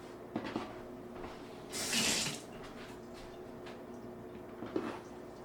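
Water runs briefly from a kitchen tap in a short, close splashing gush during stromboli dough preparation, with faint handling noises before and after.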